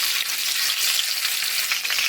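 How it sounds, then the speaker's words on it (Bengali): Fish pieces frying in hot pure mustard oil in a pan, giving a continuous close, loud crackling sizzle throughout with no voices. "আমি মাছগুলো ভেজে নেব।"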